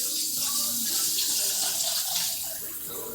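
Kitchen tap running cold water onto uncooked rice for washing, a steady hiss and splash of flowing water into a bowl, close and continuous with slight variation in the stream.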